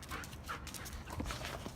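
Dog whimpering and yipping up close in a noisy indoor space, short whiny calls and a few sharp barks breaking through steady background rumble.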